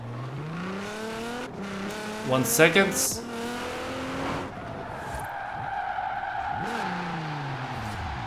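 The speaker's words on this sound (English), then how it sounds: "Tap the handbrake and then, and slowly tap the back of the car against the wall." A car drifting in Forza Horizon 4, its engine revving and falling as the tyres skid, with a short cluster of knocks as the rear taps a wall; a voice speaks briefly over the engine.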